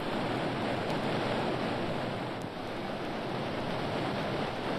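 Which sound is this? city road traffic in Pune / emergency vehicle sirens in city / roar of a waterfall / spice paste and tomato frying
roar of a waterfall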